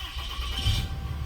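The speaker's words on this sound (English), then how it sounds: "let's go ahead and get the truck started" A Ram truck engine turns over and catches, a low rumbling start that settles into a steady idle, close by.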